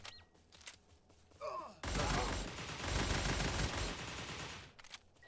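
An AN-94 Abakan fires in burst mode in a video game: a dense, roaring stretch of rapid gunfire that breaks in suddenly after a quiet start, holds for about three seconds, then fades to faint scattered sounds.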